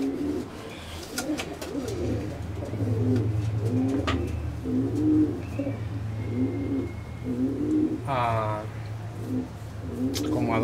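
Racing pigeons at their loft coo in soft, repeated rolling phrases nearby, one call following another over a low steady hum, with a brief flutter of wings near the end.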